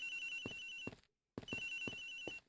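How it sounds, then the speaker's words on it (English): A phone rings in the Ace Attorney Investigations: Miles Edgeworth video game, two loud electronic ringtone bursts separated by a brief silent gap. "Ringing's coming from somewhere around here."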